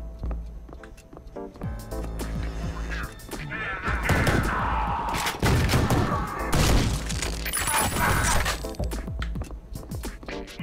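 Gunfire from Ion Fury, a first-person shooter, crackles through a dense, busy game mix of impacts and crashes, with loud bursts clustered through the middle and latter part.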